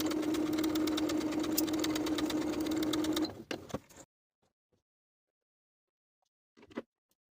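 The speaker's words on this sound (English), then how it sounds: "Then I'll sew each of the darts from the top of the pant to the point" A sewing machine stitches darts on a pair of pants in a steady, loud mechanical whir for about three seconds, then slows and stops, leaving silence broken by one brief burst of machine noise near the end.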